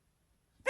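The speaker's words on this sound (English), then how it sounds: "Freaking dog, bro." A dog gives a single short, loud bark at the very end, after a stretch of silence.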